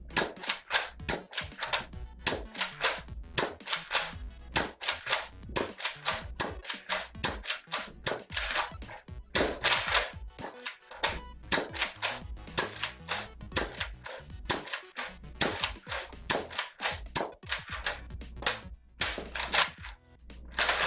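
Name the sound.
Nerf blaster firing foam darts from a banana magazine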